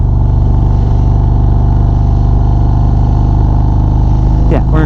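A 2025 Indian Springfield Dark Horse in Tour mode rumbles steadily at close range on city side roads, its low, even engine note holding under talk before brief throttle blips rise near the end.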